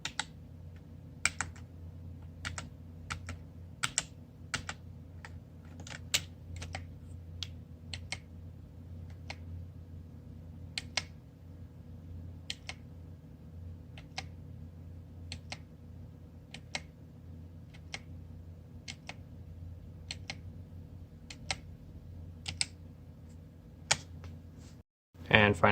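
Typing on a Coolermaster MS110 RGB membrane keyboard gives soft, fairly quiet key clicks that tap out steadily and irregularly, close up, over a faint low hum.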